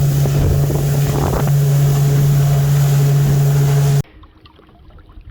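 A turbocharged Yamaha SHO jet ski roars loudly and steadily across the water with a strong, constant engine drone, then cuts off abruptly near the end, leaving faint wind and water noise.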